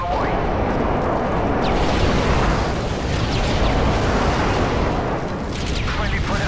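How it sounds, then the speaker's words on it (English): Dense, loud rumbling blasts from an airstrike in Call of Duty Modern Warfare 3, a continuous barrage of booming explosions with sharper crackles, fading slightly near the end; a voice is heard over it. "Friendly airstrike on the way."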